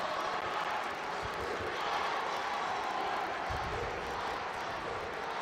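A large crowd cheers and chants in support of a Serbian competitor during a bronze medal bout at the European Karate Championships, a dense, steady roar of many voices filling the whole stretch with little variation.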